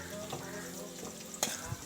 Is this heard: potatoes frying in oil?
yes